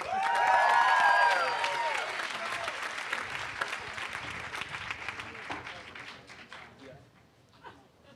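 Enthusiastic applause from a large audience at a graduation ceremony, loudest at the start with whoops and cheers, then gradually thinning out over several seconds.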